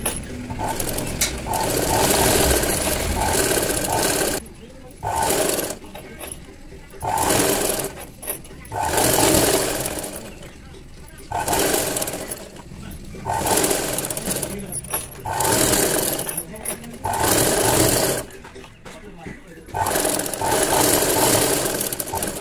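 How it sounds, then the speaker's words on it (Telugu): A sewing machine stitches piping around a square neckline in repeated loud, close bursts of whirring, broken by short pauses, with someone talking between runs. "ఇప్పుడు దీన్ని మనం స్టిచ్ వేసేసుకుందాం."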